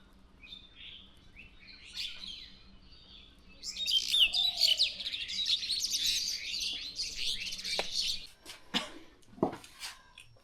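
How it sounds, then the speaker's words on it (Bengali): Birds gathered on the flowers of a silk cotton (shimul) tree, chirping and twittering in overlapping bursts that build into a busy chorus midway, then thin to a few sharp calls, moderately distant. "শিমুল ফুলে পাখির আড্ডা।"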